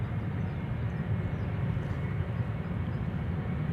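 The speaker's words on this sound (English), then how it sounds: "Embraer 190 outbound to Edinburgh, up first, KLM flight 925." A KLM Embraer 190 airliner departs Schiphol for Edinburgh with a steady, broad engine roar. The sound is moderately loud and constant, and no one talks.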